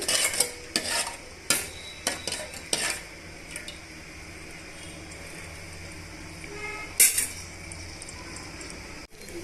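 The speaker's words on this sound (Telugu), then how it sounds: "యాడ్ చేసుకున్న తర్వాత ఇవన్నీ బాగా మిక్స్ చేసుకొని వేగనివ్వాలి" Mustard seeds and cumin frying in hot oil for hotel-style sambar, a soft sizzle under repeated clinks and scrapes of a spoon stirring against the pan, with a few louder knocks.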